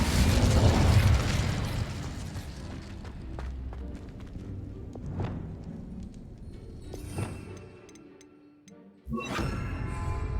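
An Incendio fire spell is cast in Hogwarts Legacy: a loud fiery burst that sinks into crackling and scattered pops, then a fresh whooshing blast near the end.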